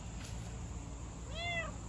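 A single cat meow, fairly close and clear, rises late after quiet background hiss.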